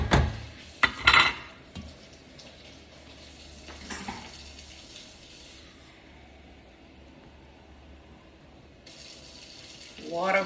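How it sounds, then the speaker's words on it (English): Water poured into a pot of chicken and beef stew, with a couple of loud splashing bursts at the start and another at the end, quieter kitchen clatter and bubbling in between. "add just a little bit more water."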